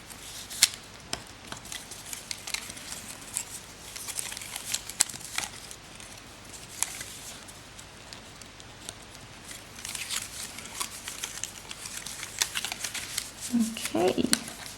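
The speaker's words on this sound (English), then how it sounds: "fold up all of these strips and just make the creases as sharp as we can with a bone folder" Paper strips for a woven Easter basket being folded and creased with a bone folder, giving soft rustling, crinkling and scraping strokes in a steady patter throughout, with brief vocal sounds near the end.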